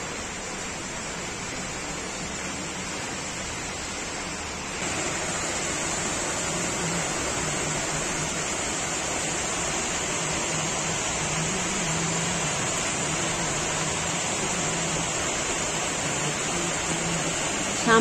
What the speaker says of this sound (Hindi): आज सुबह से बहुत तेज़ बारिश हो रही है